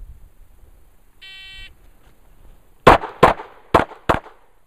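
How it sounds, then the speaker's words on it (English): A handgun drawn and fired in a law-enforcement qualification drill, two rounds per target: a short electronic start beep, then four sharp, loud shots in two quick pairs, with near silence between. "It's draw and fire 2 rounds on each target."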